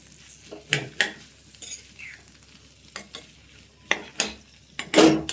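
Ginger and garlic frying in a pan for a dondakaya (ivy gourd) dish, a faint low sizzle broken by several sharp metallic scrapes and clinks of a spoon stirring against the pan, close by.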